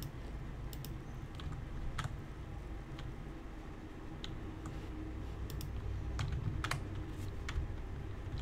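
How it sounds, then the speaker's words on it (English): Typing on a computer keyboard while playing RuneScape, with sparse, irregular key clicks, some in quick pairs, close and fairly soft over a low steady hum. "I was typing."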